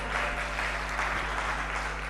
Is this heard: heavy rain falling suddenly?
no